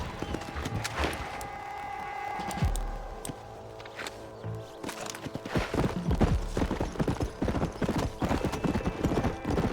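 Horse hooves clip-clop steadily in the Xbox 360 game Red Dead Redemption, a near, rhythmic trot over a background of game music, with a brief whinny and some spoken dialogue mixed in.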